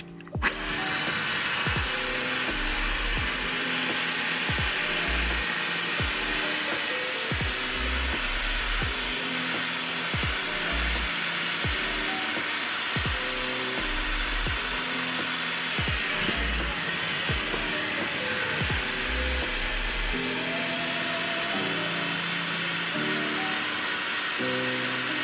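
A Dyson hair dryer blows a steady, close, high whooshing roar through a 90s-style blow-dry, with repeated soft knocks and brush strokes beneath it and a brief dip in the airflow partway through.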